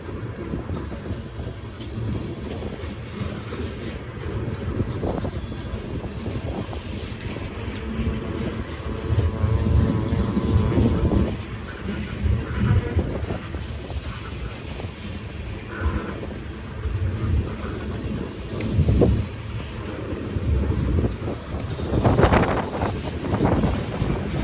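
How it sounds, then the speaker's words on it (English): A long freight train rolls slowly past Lake Avenue in Blasdell, NY, a close, steady heavy rumble with wheel clatter and gusts of wind noise throughout. "East Shore's going very long and East Shore's a long train and going slow"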